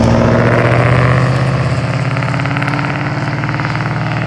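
A motorcycle with loud exhaust pipes rumbles past up close on a rural East Texas road, a steady heavy engine drone that is loudest at first and then eases slightly as it moves on, with no talking.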